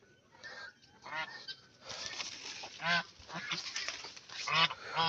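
Domestic geese honking on a farm beside a fish pond in a Bangladeshi village, with repeated loud, harsh honks from several birds close by, overlapping in irregular bursts throughout.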